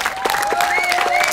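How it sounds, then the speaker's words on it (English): An audience applauds a singer at a live cabaret, a short burst of dense, steady clapping with some cheering, while a voice speaks over it. "And can we just have another round of applause?"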